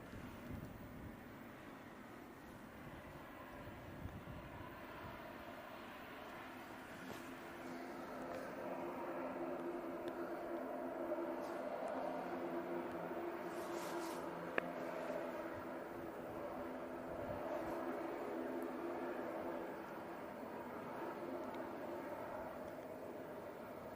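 A passenger jet lands at Manchester Airport on a warm day, a distant, steady roar with a low engine hum that swells gently and stays broad and continuous throughout.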